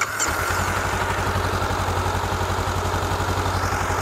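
A Honda CB500F motorcycle engine idles steadily at close range, a continuous low throbbing putter with an even rhythm after a brief start-up catch, no talk over it.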